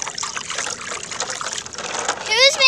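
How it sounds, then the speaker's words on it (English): Water splashes and trickles steadily throughout, a continuous busy liquid wash that grows a little louder near the end, with voices briefly heard over it. "Who's making all this splashing?"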